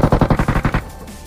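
Rapid automatic gunfire from a shooter video game fires a quick burst of about seven loud shots, then stops, leaving a faint tail of echo and game ambience.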